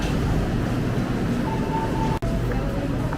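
Interior of a KRL INKA commuter train running between stations in Jakarta, a steady rolling rumble with faint tonal motor whine and a brief dropout, continuous and close.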